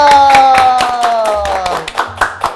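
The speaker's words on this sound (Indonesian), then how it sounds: "Tepuk tangan dong." Rhythmic hand clapping from a studio talk-show audience at a quick, steady beat, with sustained tones and some voices in the background.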